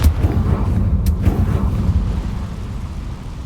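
A Confringo fire spell explodes in Hogwarts Legacy combat, giving a heavy booming blast with rumbling low end and a second burst about a second later before the rumble fades out, loud and close.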